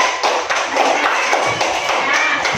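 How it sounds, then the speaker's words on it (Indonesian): Schoolchildren in a classroom clap for a classmate's correct answer, a loud, busy patter of many small hands with thumps mixed in. "tepuk tangan untuk Aidil"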